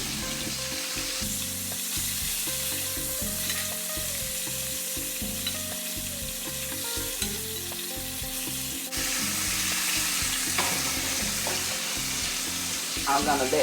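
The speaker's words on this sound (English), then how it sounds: "I'm going to let this continue to fry" Chicken fries in a pan with a loud, continuous sizzle and occasional stirring, the crackle growing stronger partway through.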